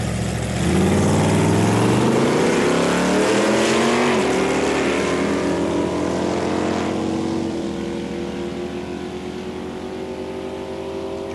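A 454 cubic inch Camaro and a 1965 446 cubic inch Dodge drag race. Loud engines roar and climb in pitch as the cars launch and pull away, then the sound fades into the distance.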